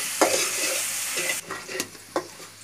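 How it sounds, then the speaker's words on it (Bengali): Bay leaf and garlic paste frying in a pan, a loud close sizzle that drops suddenly halfway through, with sharp stirring scrapes and clinks scattered over the quieter hiss. "তেজপাতাটা আমি একটু ভাজিয়া নেওয়ার পরে আমি রসুন বাটা দিলাম"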